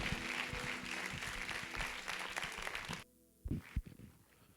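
Church congregation applauding, a moderate patter of clapping for about three seconds that cuts off sharply and leaves a few stray claps and quiet room sound.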